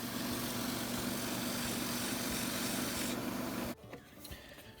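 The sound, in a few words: sanding spalted maple pen blank on wood lathe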